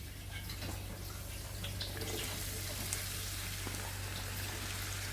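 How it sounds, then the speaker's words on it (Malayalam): Onions dropped into hot oil in a pan, giving a steady, continuous sizzle and crackle at moderate level throughout, with a low hum underneath. "ഇവിടെ എണ്ണ മൂത്തിട്ടുണ്ട്, എണ്ണ ചൂടായിട്ടുണ്ട്. നമുക്ക് ഉള്ളി ഇട്ട് കൊടുക്കാം."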